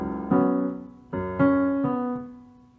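A piano plays a short fragment of a song, with four distinct notes and chords struck one after another and left ringing as they fade.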